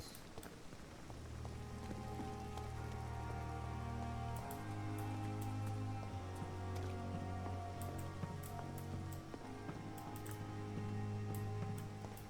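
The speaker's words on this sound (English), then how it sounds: "Like outside in the rain and the cold." Steady rain falls in the Vampyr video game, a soft continuous hiss beneath a sustained, slow-moving musical score that stays louder than the rain.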